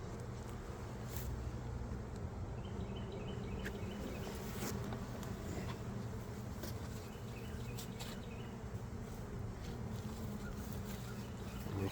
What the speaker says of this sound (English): There's quite a few bees here.